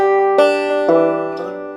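A banjo rings out with plucked open third-string notes, one sliding up in pitch, each note sustaining and overlapping the next.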